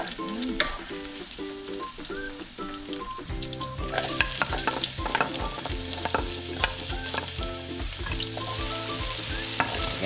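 Garlic frying in a pan, a close steady sizzle with repeated stirring scrapes and clinks of a utensil, while music plays underneath.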